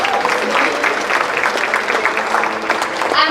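Steady audience applause fills an awards ceremony hall, a dense even patter of clapping that holds throughout without a break.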